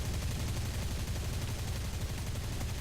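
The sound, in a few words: PE-8 bomber firing front guns and rear cannons in War Thunder video game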